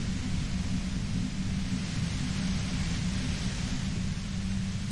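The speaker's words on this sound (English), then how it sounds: "The violet-white noise becomes even more overwhelming closer to the compressor." In the Disco Elysium video game, the violet-white noise near the compressor is a dense, continuous hiss with a heavy low rumble, steady and overwhelming, with no voices.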